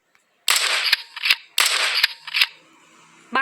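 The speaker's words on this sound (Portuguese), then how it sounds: "Nossa, o tiro dessa aqui é bem mais legal. Escuta só." Gunshots fire in the mobile shooter game Chicken Gun, with two loud, crisp synthetic blasts each trailed by quick mechanical clicks, separated by a short pause and heard alone without talk.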